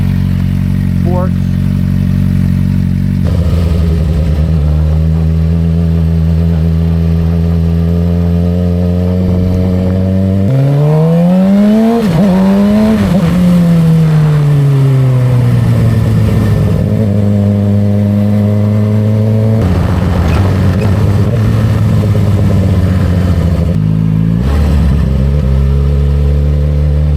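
Motorcycle engine with loose throttle play running steadily, then revved up and down in several swells over the idle, loud and close throughout.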